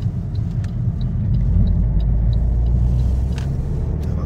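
Alfa Romeo Giulietta 1.4 T-Jet 120 hp engine running on the road, a loud, steady low rumble heard from inside the car with no talking.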